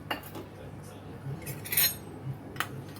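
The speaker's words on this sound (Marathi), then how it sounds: "मी याच्यामध्ये ना मिल्क पावडर घालणार आहे याच्यामध्ये मिक्स करून घेणार आहे दुधामध्ये मी मिक्स करून घेते" A spoon stirs milk powder into milk in a kitchen while making watermelon ice cream: a few scattered metallic clinks and scrapes against a bowl, quiet and uneven, with soft background noise between.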